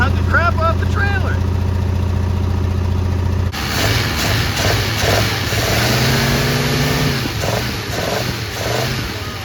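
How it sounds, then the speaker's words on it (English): Rusty 1973 Plymouth Scamp being driven off a trailer, its engine idling and then revving in rough bursts close by, with a voice talking over it. "we drive a rusted hunk of crap off the trailer"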